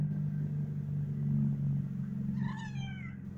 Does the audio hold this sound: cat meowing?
yes